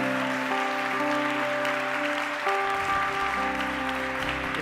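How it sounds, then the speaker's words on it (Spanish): Congregation applauding at a church service, a steady wash of clapping carried under sustained organ or keyboard chords throughout. "Un aplauso para ellos,"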